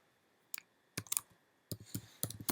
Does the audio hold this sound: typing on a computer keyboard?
yes